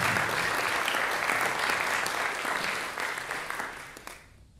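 Audience in an auditorium breaks into sustained applause for a band about to play, full and even at first, then thinning and fading out toward the end.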